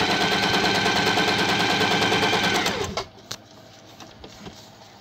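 An Usha Janome Allure sewing machine stitches fabric in a fast, continuous rattling burst that stops abruptly after about three seconds, leaving a few faint clicks and handling sounds.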